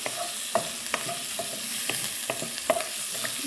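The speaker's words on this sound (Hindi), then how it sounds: "देखिए इस तरह से ये चिकन जो है फ्राई हो जाएगी" Chicken shallow-frying in a pan with half a cup of Pacific cooking oil: a steady close sizzle with scattered sharp crackles and pops, and the occasional scrape of stirring.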